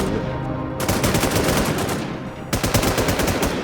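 Rapid automatic gunfire in the online shooter NewZ, two loud sustained bursts of machine-gun fire separated by a brief pause, close and dominant.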